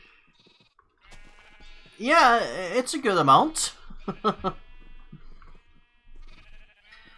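Sheep bleating in a farming video game, several wavering bleats close together, loud and clear, followed by shorter calls, with someone talking briefly before and after.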